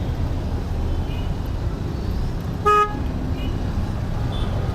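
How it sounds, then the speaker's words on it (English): A single short car horn toot sounds in the middle of steady Bengaluru road traffic rumble, loud and fairly close, heard from a bicycle amid passing vehicles. "it's not me they're honking at"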